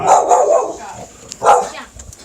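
A dog barks at a ringing doorbell, loud and close, two or three sharp barks with whimpering yips in between, against a faint high background tone.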